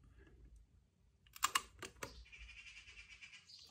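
An awl punching holes through paper, heard as a few crisp, close taps in quick succession in a quiet room, followed by faint chirping in the background.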